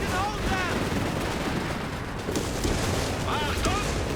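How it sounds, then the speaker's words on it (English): Artillery blasts and gunfire sound across a battlefield in the strategy game Company of Heroes 3 during a 3v3 match. Booms rumble continuously and are dense and loud, and a voice commentates over them. "it was until it started getting blasted by artillery"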